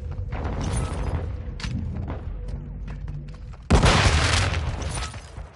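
A grenade goes off in Call of Duty: Modern Warfare II, a sudden loud blast near the end following a stretch of dense battlefield noise and scattered thuds.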